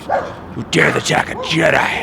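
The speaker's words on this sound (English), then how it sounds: "I do apologize for the dogs barking." Dogs bark and yip in short bursts in the background while someone talks over them indoors.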